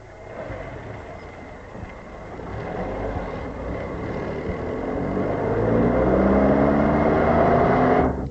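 A car engine runs close by with a steady droning hum that slowly builds in loudness and pitch, as if pulling away.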